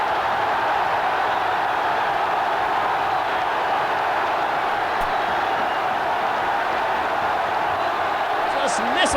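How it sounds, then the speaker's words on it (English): A packed football stadium crowd roars at a 1989/90 Middlesbrough match, a continuous, thick wash of massed voices holding steady and loud throughout, with faint shouts poking through near the end. "Listen to that crowd."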